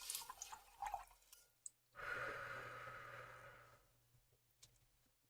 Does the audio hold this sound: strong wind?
no